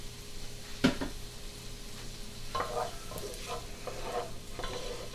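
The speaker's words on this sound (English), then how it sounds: "next I'm going to put the jalapenos in. This is one jalapeno without seeds." Jalapeno without seeds dropped into a hot frying pan for a Brazilian moqueca fish stew, giving a soft steady sizzle with a sharp clatter near the start and a few light stirring scrapes.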